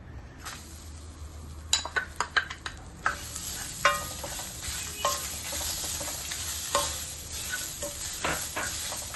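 Grated coconut and dried red chilies fry in hot oil with a steady close sizzle, broken by several sharp clinks and scrapes of a spoon against the pan early on; no one speaks.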